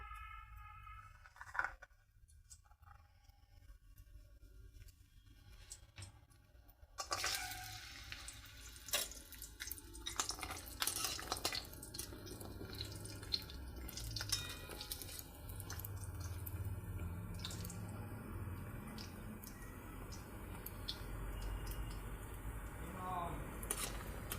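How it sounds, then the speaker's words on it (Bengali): Bori, small lentil dumplings, frying in hot oil, a steady close bubbling sizzle that swells after a quiet start with a few clinks, then holds as a dense crackle. "প্রথমেই আমি বড়ি ভেজে নেবো"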